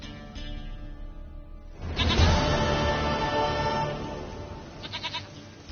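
A goat bleats in The Witcher 3 video game, one long wavering bleat starting near the middle and continuing for a few seconds, loud and close, followed by a short trailing bleat near the end.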